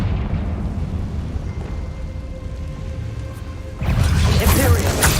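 Spell explosions in Hogwarts Legacy: a dense, rumbling roar that surges suddenly into a louder, crackling burst near the end.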